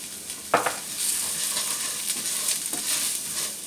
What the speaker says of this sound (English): I like to toast that with my rice so it just really gets more of an impact with the herbs I'm using